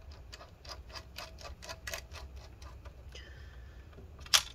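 Regular series of small clicking ticks as a screwdriver turns screws into an ASUS K43E laptop, close and quiet, ending in a faint squeak and one sharper click.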